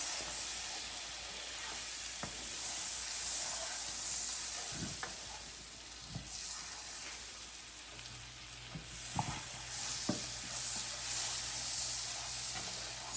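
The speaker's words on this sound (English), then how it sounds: "Just a little more butter. Let that melt." Butter melting and sizzling in a pan already coated with steak drippings for a steak and broccoli stir fry, a steady close frying hiss with occasional soft clicks and stirring knocks.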